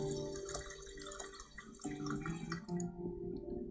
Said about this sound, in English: It's pouring out water.